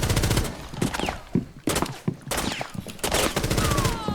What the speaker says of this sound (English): Going around the map, getting into gunfights.